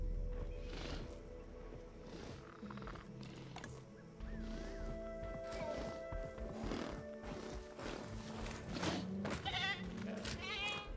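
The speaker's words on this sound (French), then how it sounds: "Une chèvre." A goat in the video game Jurassic World Evolution 2 bleats a few times over a busy park soundscape, with horse-like whinnies, hoof clops and a steady low rumble running underneath.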